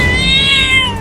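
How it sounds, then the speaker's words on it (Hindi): A cartoon cat gives a single loud, bright meow lasting about a second, close and clear with nothing else over it. "अरे दादा, एक बिल्ली भी आ रही है"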